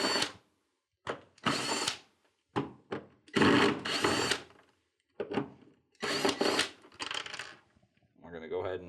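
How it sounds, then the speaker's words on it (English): Power drill removing four quarter-inch screws from a Whirlpool ice dispenser, with repeated short bursts of whirring, each starting and stopping sharply with pauses between, close and fairly loud. "Now we're going to go ahead and remove the 4 1/4-inch screws."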